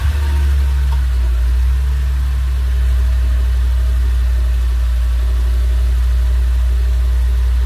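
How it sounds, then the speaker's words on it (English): A 2011 Lexus IS350 engine idles steadily and loudly up close, a continuous low hum with no talking. "I'm gonna run the car for 5 minutes, make sure there's no oil leaks"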